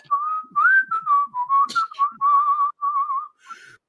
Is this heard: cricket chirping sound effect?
no